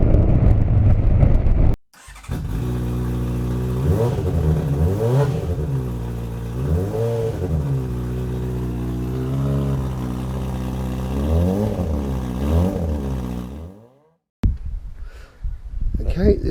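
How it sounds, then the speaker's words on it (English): A Kawasaki Z650 motorcycle engine is revved repeatedly, each blip rising and falling in pitch in a series of about eight loud, close revs, then cuts off before a brief burst of noise at the end. "Okay, this is a Kawasaki Z650."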